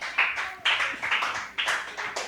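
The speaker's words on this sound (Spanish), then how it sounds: "Dele ese aplauso al Señor Jesús." A church congregation clapping in praise, several loud bursts of hand claps coming in uneven rhythmic clusters, close and reverberant in the room.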